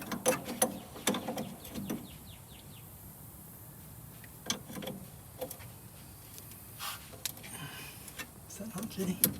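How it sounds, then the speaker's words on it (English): Two wrenches working a tight 14 mm nut inside a VW Beetle under restoration, giving scattered close metallic clicks and ratcheting clanks in uneven bursts, with someone talking between them. "Let me get 2 wrenches on there and hit it both ways"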